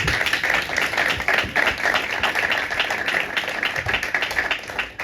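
A church congregation at a Sunday service applauds, a dense, steady wash of many hands clapping together, loud and continuous with faint voices mixed in.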